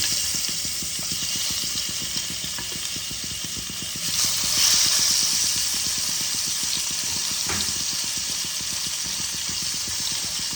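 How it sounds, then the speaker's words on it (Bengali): Koi fish frying in oil in a pan for a Bengali tel koi recipe, a steady close sizzle with a rhythmic ticking underneath and a brief louder spatter midway. "বাদ বাকি মাছগুলো ভেজে নিচ্ছি"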